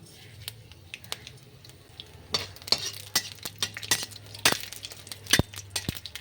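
Flat beans being stirred in hot oil in a pan with dried chilli, mustard seeds and carom seeds, soft scraping and clinks of a utensil against the pan, faint at first and then busier, with a light sizzle underneath.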